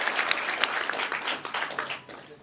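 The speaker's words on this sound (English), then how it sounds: "I'll give a clap to Mr. Lewis." An audience claps for a speaker at a cloud technology meetup in Kuala Lumpur, a brief burst of applause that fades out within a couple of seconds.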